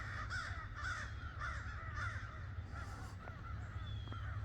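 Several crows caw repeatedly outdoors on a walk as weather warms, harsh calls in a steady series over a constant low background rumble, no talking.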